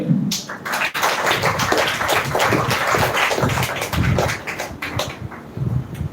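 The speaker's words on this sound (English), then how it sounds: "please give a huge round of applause for yourself." An audience at a spoken English competition grand finale gives a round of applause, with close, dense, uneven clapping that runs steadily for several seconds.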